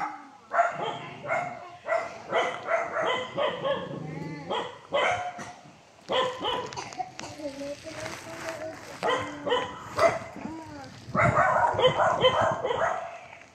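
Many dogs bark in repeated overlapping bursts close by at a home, mixed with people talking.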